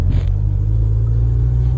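A 1979 Series 3 Morris Marina engine drones low and steady from inside the moving car, a loud, even rumble with no talking.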